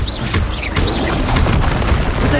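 Loud booming blast of a Confringo fire spell in the Hogwarts Legacy video game, a dense explosive rumble with sharp bursts and whooshing tones layered over it, continuous and close throughout.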